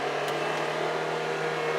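Steady engine drone from a 2015 Toyota Yaris, a constant hum with a low tone held throughout, moderately loud and close with no speech over it.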